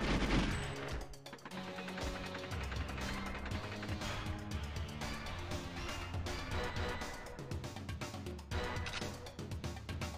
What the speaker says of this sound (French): Donc par là, je tire sur la droite